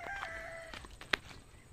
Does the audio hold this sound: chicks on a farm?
yes